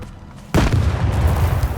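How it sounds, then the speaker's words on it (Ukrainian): Grenade explosions and gunfire in the S.T.A.L.K.E.R. 2 video game: a quiet stretch, then a sudden loud blast followed by sustained rumbling booms and crackling shots. "Влучання доволі ефектні, як і вибухи від гранат."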